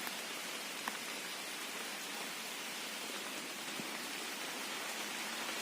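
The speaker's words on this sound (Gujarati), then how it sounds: "રીમઝીમ રીમઝીમ રીમઝીમ વરસાદ ચાલુ થઈ ગયો છે" Light drizzle starts falling on a farm field, giving a soft, even hiss of rain with a few faint drops standing out and no voices.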